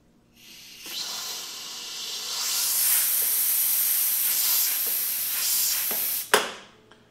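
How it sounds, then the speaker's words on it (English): Compressed air blows Marvel Mystery Oil through a sprint car's barrel valve and fuel lines, making a long, steady, loud hiss that ends with a sharp puff and a tapering release. "I'll basically just blow that Marvel mystery oil through the barrel valve and through all the lines"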